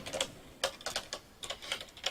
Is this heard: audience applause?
no